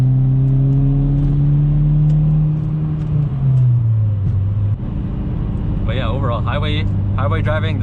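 A Mitsubishi Evo X engine drones loudly inside the cabin, its pitch climbing through the gears under full throttle, with someone talking over it toward the end.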